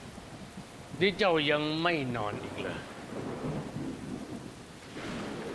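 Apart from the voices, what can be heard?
thunderstorm with rain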